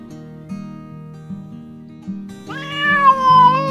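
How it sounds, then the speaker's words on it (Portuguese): A cat lets out a drawn-out, rising meow near the end, preceded by low tonal sounds, loud and close. "Os gatos."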